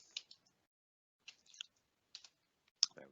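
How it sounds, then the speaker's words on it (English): Numbers typed on a computer keyboard during financial data entry: small clusters of light, crisp key clicks separated by pauses, close and fairly quiet. "let's try typing in a proper number this time."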